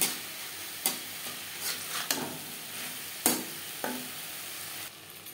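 Potatoes with turmeric, salt and spices are stirred in a pan for a fish curry: sharp spoon scrapes and knocks come every second or so over a soft, steady sizzle.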